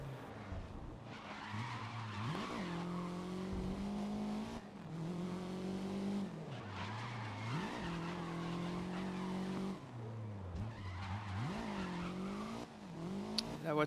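A race car in the racing game GRID drives along a street circuit in Paris, its engine droning and rising in pitch through repeated acceleration sweeps while tires skid and squeal through the corners, loud and steady with no talk.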